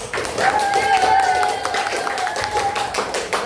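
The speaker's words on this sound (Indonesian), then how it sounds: "Tepuk tangannya untuk kelompok 1." A classroom applauds a student group after a presentation, many hands clapping together at moderate loudness while a voice speaks over the clapping.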